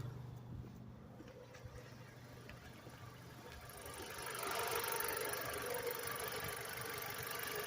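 A car engine idles steadily nearby with a low, even rumble; the tone brightens and grows slightly louder partway through, with no smoke-related sounds and no talk.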